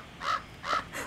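Crow in the farming video game Pumpkin Panic gives two loud, close caws about half a second apart, followed by the start of a third, with no talk over them.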